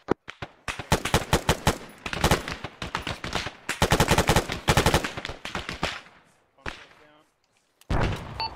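Rapid bursts of gunfire ring out in an ARMA 3 milsim firefight, loud volleys and automatic strings crackling near, pausing briefly, then resuming, with players calling over the shots.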